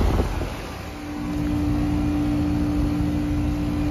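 A brand-new 2023 Payne 2.5-ton heat pump outdoor unit, frozen solid, runs with a steady low mechanical hum and droning tone, close and continuous with outdoor wind noise.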